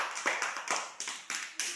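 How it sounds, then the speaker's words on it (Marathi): Children in a classroom clap together in quick, loose bursts, about six sharp rounds over under two seconds; the clapping is moderately loud and close, with no talking on top. "नालंदासाठी त्याला टाळ्या वाजवा सर्वांनी जोरात"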